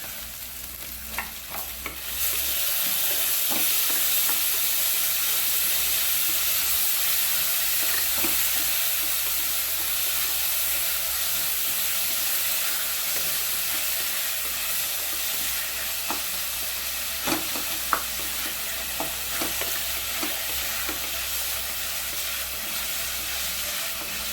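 Tomatoes frying and being stirred in a pan, a steady loud sizzle with occasional scraping stir sounds throughout, no talking.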